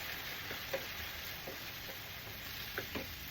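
Squid sizzles in a frying pan with sautéed tomatoes for adobong pusit, a steady hiss with a few soft spoon taps stirring through it.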